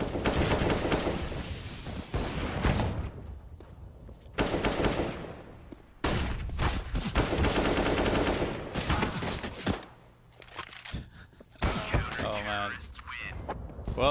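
Rapid automatic gunfire bursts from a CS:GO match on the Mirage map, loud and repeated in clustered volleys with brief gaps, mixed with game sounds and a commentator's voice talking over it.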